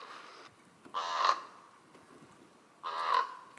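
A raven gives two loud, harsh croaks about two seconds apart, each lasting roughly a third of a second. Quiet outdoor background fills the gaps, heard on a fall canoe trip at Lake Opeongo in Algonquin.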